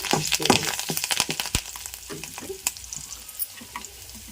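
Tempering for a coconut and ridge gourd chutney, curry leaves and turmeric hitting hot oil in a pan, a loud crackling sizzle with rapid pops that gradually settles, close up with no speech.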